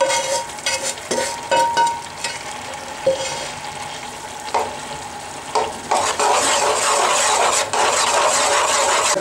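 Roasted mung flour and starch in desi ghee are stirred into a supari pak mixture, a spoon scraping and knocking against the pan before a louder, steady sizzling hiss takes over as the mixture fries.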